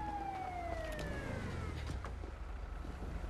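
Police siren in the video game GTA V wails with a falling, swooping tone over steady traffic and engine rumble, loud and close throughout.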